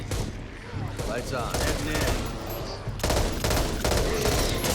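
Rapid bursts of gunfire from the co-op zombie shooter Back 4 Blood, dense and continuous with sharp volleys throughout, mixed with game effects and a voice talking over it.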